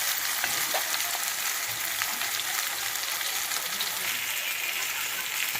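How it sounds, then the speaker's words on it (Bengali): Onion paste sizzles and fries in hot oil with cumin seeds for a fish curry, giving a steady, dense hiss with faint stirring scrapes throughout, close and continuous with no talking. "তেলের মধ্যে আমি এবারে পেঁয়াজ বাটাটা দিয়ে দিলাম"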